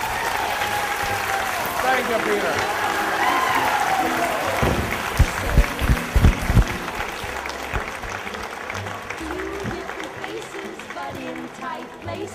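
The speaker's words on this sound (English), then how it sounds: "One more round of applause for our lovely ladies" A bingo show audience applauds in a broad, sustained wash of clapping, with talk and crowd murmur running over and under it and a brief spoken thanks partway through.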